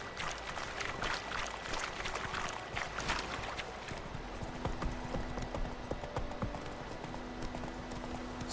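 Horse hooves clip-clop at a steady trot as Geralt rides in The Witcher 3: Wild Hunt, a rhythmic, moderately loud beat that continues over light ambient background.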